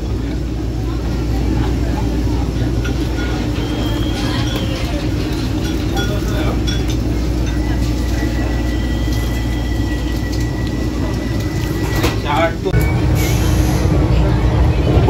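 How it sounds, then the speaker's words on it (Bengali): A Vande Bharat Express, the Puri–Howrah service, runs at about 127 km/h as heard from inside the coach: a loud, steady low rumble with a brief clatter near the end, and faint voices in the background. "বন্ধুরা ট্রেনটা দেখো কিন্তু 127 কিলোমিটার পার আওয়ার যাচ্ছে কিন্তু স্পিড মিটারে।"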